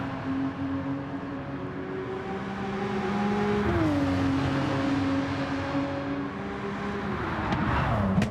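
A Porsche Carrera engine in Gran Turismo 7 droning steadily through corners, its pitch dipping and rising with gear and throttle changes, loud and continuous.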